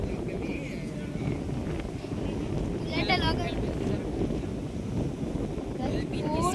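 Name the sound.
strong wind blowing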